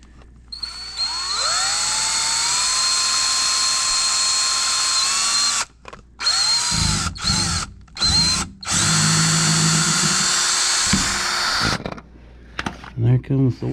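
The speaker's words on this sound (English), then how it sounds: "Let's see if I can do this and hold the drill at the same time." Power drill boring a hole in the intercooler of a 2019 Ford F-150 with a 3.5L EcoBoost and a misfire problem, a long high whine that rises in pitch, then short bursts with gaps, loud and close, with a voice speaking briefly near the end.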